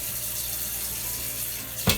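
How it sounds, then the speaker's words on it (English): Fresh water running onto salted fish in a bowl at a kitchen sink, a short steady gush of tap water with a brief clunk near the end. "And we're gonna add fresh water."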